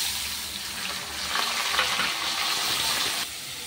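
Rice sizzles and fries in hot ghee and white oil after a spice tempering with carrots, raisins and green chillies, a steady close crackle with stirring scrapes throughout, no talking.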